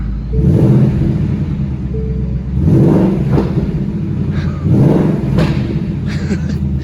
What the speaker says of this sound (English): I'm gonna go ahead and rev up the car for you guys.